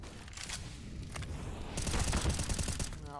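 Dense, rapid gunfire from SMGs and M4 rifles in a Counter-Strike match against a fully equipped T side, with overlapping bursts rattling continuously and intensifying toward the middle, with no talk.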